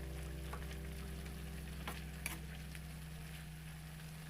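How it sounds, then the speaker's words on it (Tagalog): Cabbage stir-fry with oyster sauce sizzles steadily in a pan, a soft, even frying hiss with a few light scrapes and taps as it is stirred, fairly quiet and with no voices. "Ayan, halo na naman tayo."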